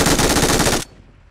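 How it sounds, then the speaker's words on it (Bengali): Rapid automatic gunfire in the video game PUBG, a loud dense burst of shots that stops abruptly, leaving a faint tail. "ওই যে ওপেনে ফায়ার দিতেছে"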